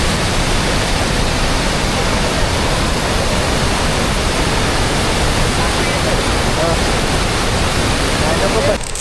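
A river in strong flood current on the forest trek route to Bhimashankar, a loud, unbroken rushing roar of water that fills the whole scene at a constant level.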